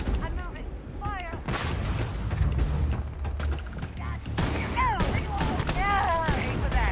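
Gunfire in the sci-fi video game Starfield, repeated sharp shots and heavier booming blasts over a busy mix of whistling, chirping game effects, loud and close throughout.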